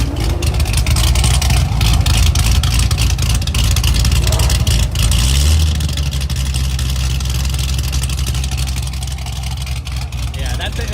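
A loud car engine rumbles and revs steadily up close at a Nashville Cars and Coffee meet, then settles into a deeper idle partway through.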